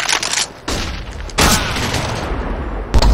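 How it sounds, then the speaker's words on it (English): A flashbang grenade goes off in the CS:GO video game, with a loud burst followed by a sustained harsh roar and a sharp crack near the end, all in game audio with no talk. "Deploying flashbang."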